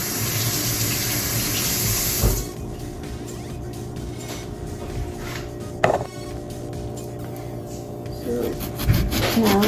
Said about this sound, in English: the first thing I'm gonna do is I'm gonna wash my onion.